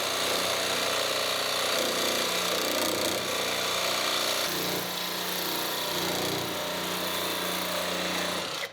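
A power saw blade grinds continuously through a welded metal section while fabricating a plated panel on an AWD four-rotor car build, a loud, steady, harsh cutting noise running for the whole stretch, close up, with no talk.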